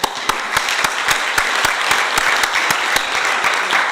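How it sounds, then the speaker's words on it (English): A room full of forum attendees applauding panelists at a Nairobi landscapes discussion session, with steady loud clapping and a few sharper individual claps standing out in a regular rhythm. "Please help me give another applause to the panelists."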